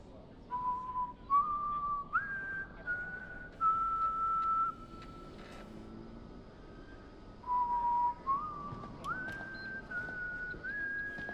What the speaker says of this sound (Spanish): Dice que está silbando, me está poniendo los nervios.